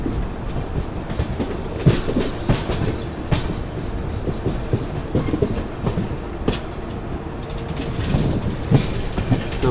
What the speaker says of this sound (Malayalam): നമ്മൾ ജസ്റ്റ് മെയിൻ ലൈനിൽ കയറുന്നു.